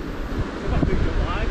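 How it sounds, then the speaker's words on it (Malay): Sea waves and gusting wind buffet the water around a fishing kayak off Malaysia, a loud rushing wash with wind noise on the microphone, one surge swelling midway, and a voice speaking briefly over it. "Tengok ni ombak. Memang gila ni tengok."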